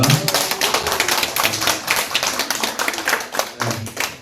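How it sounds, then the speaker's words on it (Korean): Steady applause from a crowd, dense clapping that continues evenly throughout with no voices on top. "다시 한번 큰 박수 부탁드리겠습니다"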